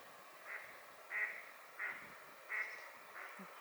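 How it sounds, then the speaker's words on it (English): Ducks by the water in the Eastern Sierra wilderness quack about five times in a slow, uneven series, faint and somewhat distant over quiet outdoor ambience. "Lots of lunch friends in the form of ducks."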